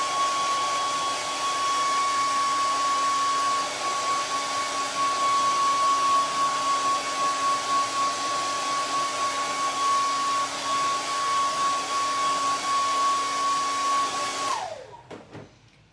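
A hair dryer blows steadily to dry spots of paint on a buffalo plaid project, a loud, even whine that holds for about fourteen seconds before it is switched off and winds down.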